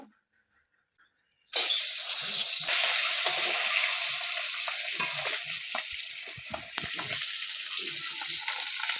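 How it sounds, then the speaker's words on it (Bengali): A duck egg coated in salt, turmeric and chilli hits hot oil in a wok after a brief silence, then sizzles loudly and continuously with crackling spits and faint stirring knocks. "ডিমটা ভেজে নেব এইভাবে, লাল করে ভেজে নেব"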